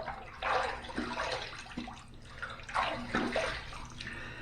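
Water splashes in a sink as a face is rinsed after a shave, several soft bursts of splashing and trickling come close and moderately loud, with no talking.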